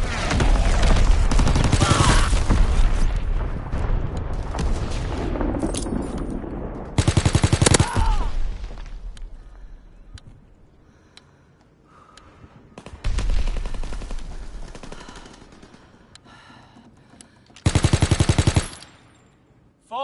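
Call of Duty WW2 battlefield with incoming artillery and relentless gunfire: dense machine-gun bursts and booming blasts come in heavy waves, loud and close, with quieter stretches of scattered shots between.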